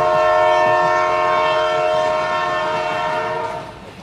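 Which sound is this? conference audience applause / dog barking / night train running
night train running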